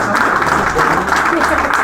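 Loud, dense applause from a crowd at a football tournament draw in Saubrigues, sustained clapping that fills the space evenly, with some voices mixed in beneath it.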